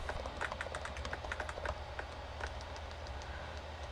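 Simulated typing clicks from the Ommwriter text editor give quick, irregular taps over a low steady hum, moderately close and most dense in the first half.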